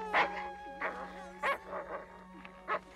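Cartoon dog barking at a man: a handful of short, moderately faint yapping barks spaced about half a second apart over a steady low hum.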